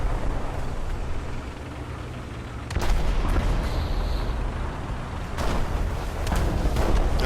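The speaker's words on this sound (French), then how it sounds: "là-bas il y a des tirs derrière la maison" In the War Thunder tank game, distant gunfire and artillery booms thud in the background over a constant rumbling engine drone, with a few sharper blasts standing out.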